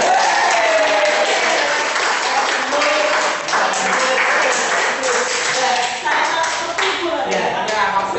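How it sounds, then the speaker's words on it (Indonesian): Counselling group of students giving a round of applause, many hands clapping continuously at close range for several seconds in a small room, fairly even and sustained with slight swells. "Kalau boleh, kita berikan aplaus untuk kita semua."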